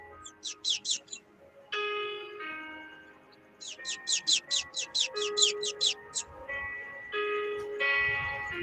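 Small bird chirping close by during an indoor prayer service, in three quick bursts of rapid high tweets over sustained tonal background sounds.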